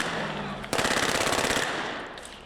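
Real guns loaded with blanks fire on a film set in a rapid, close automatic burst of evenly spaced shots lasting about a second, over a noisy background that fades away afterward.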